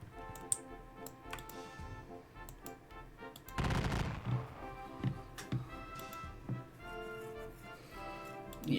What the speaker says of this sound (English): Get plinked at by rifles.